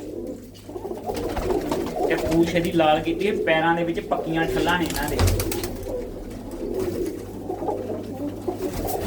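Pigeons coo in a loft, low and steady beneath someone talking throughout, with a few louder bird calls in the middle.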